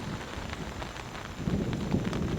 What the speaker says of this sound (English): Non-stop thunder.